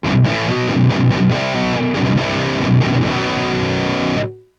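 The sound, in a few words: rock guitar tone with reverb pedal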